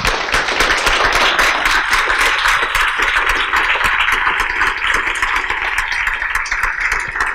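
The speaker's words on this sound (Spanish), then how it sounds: "Les pido un aplauso para ellos." An audience at a lecture applauds, steady loud clapping with many sharp hand claps that runs the whole time without a break.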